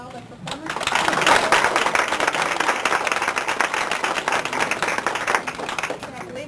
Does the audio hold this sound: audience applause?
yes